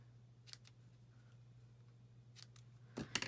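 Scissors cutting ribbon off a small bow for a handmade card: faint quiet snips near the start and middle, then a sharper closing cut at the end, over a low steady hum.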